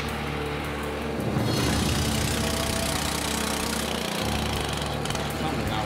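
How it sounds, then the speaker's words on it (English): Motor on a pump-out tank rig roars steadily, growing louder and rougher as it is sped up about a second in, then holds at that higher, dense level before its low hum shifts again. "I'm gonna go speed the motor up and then we'll suck this out"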